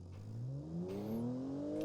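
Simulated car engine in BeamNG on the Laguna Seca circuit, revving upward with rising whining harmonics, loud and steady over about two seconds, no talk.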